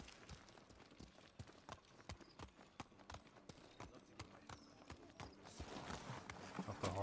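Rhythmic clip-clop of horse hooves at a steady trot in the video game Ghost of Tsushima, crisp and close, growing slightly louder and busier toward the end.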